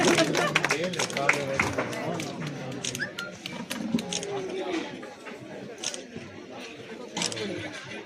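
A crowd applauds at a Christmas celebration in a primary health centre, with steady, close clapping running throughout and people chattering underneath.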